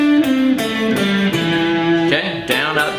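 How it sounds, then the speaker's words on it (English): Electric guitar runs a descending minor pentatonic scale in fifth position, a steady stream of clean, sustained picked notes stepping downward one after another, loud and close with no talking. "play down that 5th position minor pentatonic scale"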